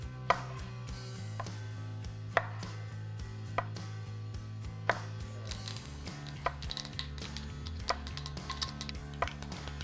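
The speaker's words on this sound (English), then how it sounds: "Quarter or roughly chop these tomatoes." A knife chops fresh vine tomatoes, quartered with seeds and all, on a cutting board, giving a series of sharp irregular taps over a steady low background hum in a home kitchen.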